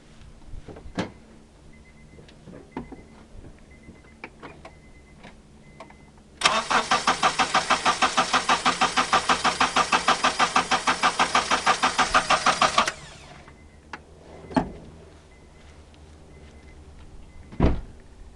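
A Honda CR-V with a 2.4 liter engine cranks for about six seconds without starting, a fast even starter-motor chug heard up close, with quiet clicks and thumps inside the car before and after.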